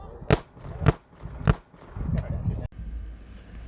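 Revolver fired on an IDPA shooting stage, four loud, sharp shots spaced about half a second apart at close range, followed by clattering and movement.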